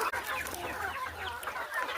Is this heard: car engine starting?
no